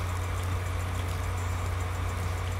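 A tractor engine runs in a field in Thuringia during soybean sowing, a steady low droning hum that holds at an even level throughout without any speech.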